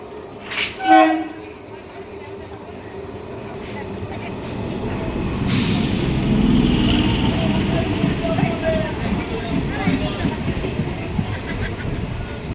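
A local train on the New Barrackpore to Sealdah line at a station: a short horn blast near the start, then a rising, sustained rumble of carriages rolling close by, with busy platform noise underneath.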